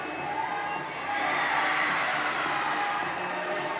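Crowd cheering and shouting at a college gymnastics meet, Iowa visiting MSU, during a floor routine; a steady, loud roar of many voices that swells slightly midway and holds throughout.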